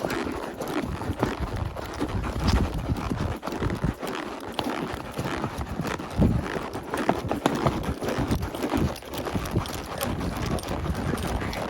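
A horse's hooves thud in a steady rhythm while being ridden on the Sal Hollow loop trail at Mammoth Cave. The hoofbeats are continuous and fairly close, mixed with some rustling from the trail.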